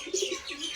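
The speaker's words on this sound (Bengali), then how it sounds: "এই পায়রাটা দেখুন" A pigeon coos close by, a short run of soft, throaty, rolling calls that rise and fall in quick succession, with no voices.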